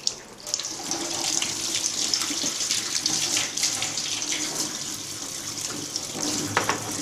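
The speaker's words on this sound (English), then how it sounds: "wash the dried figs, then set aside" Tap water gushes into a sink while dried figs are washed. The stream pours continuously and fairly loudly, with light splashes and small clinks from handling, and no voices.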